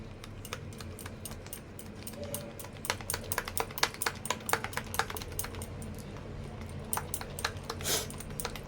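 Pakora batter made with potato and pointed gourd, whisked in a bowl with a spoon: rapid, irregular clicking and tapping strokes that are fairly close and moderately loud.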